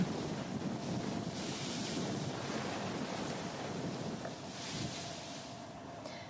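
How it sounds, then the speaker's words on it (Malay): Strong wind from Cyclone Nisarga near Alibag rushes and buffets the microphone while waves surge steadily underneath, a loud unbroken roar with no voices. "Taufan Nisarga membawa bersama hujan lebat dan angin kencang dengan kelajuan mencecah sehingga 110 km sejam."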